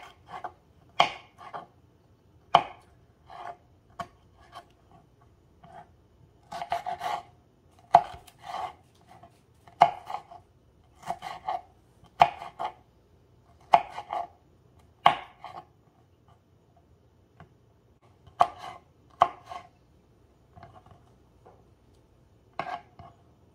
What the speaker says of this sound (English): All right, so we have those tomatoes all diced up.